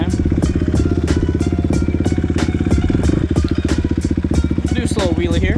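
A Honda CR125R two-stroke motorcycle engine revs hard and steadily near the listener at night, holding a dense buzzing drone for a wheelie with a rising note near the end.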